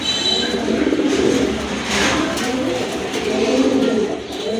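Garra pigeons coo at close range, a loud, throaty, rolling murmur that swells and fades in overlapping waves with no pauses.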